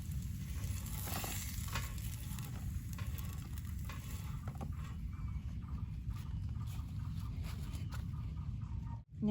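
Steady sizzling and crackling of potatoes frying in a pan, continuous throughout, with occasional soft scraping.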